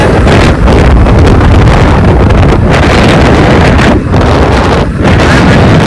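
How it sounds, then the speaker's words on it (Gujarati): Strong wind buffets the microphone in a loud, continuous roar, with brief dips in intensity. "મિત્રો હવે મોવા મોસમાં આવી ગયા છીએ ને પવન અહીંયા બહુ છે"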